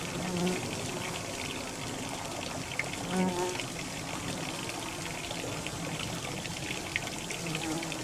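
Garden bumblebees forage among deep flowers, their low buzzing hums near and intermittent over a constant outdoor hiss, with a few louder passes.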